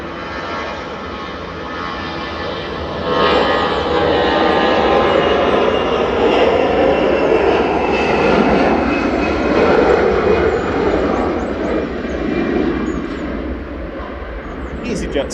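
An easyJet Airbus A320 Classic, twelve years old, departs Manchester for Malaga, its jet roar swelling loudly after a few seconds and holding steady before easing slightly, with voices over it.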